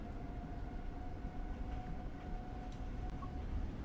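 A Long Island Rail Road train runs in Train Sim World 4 with a constant low rumble and rolling rail noise under a faint steady whine, heard at moderate level and without any talking.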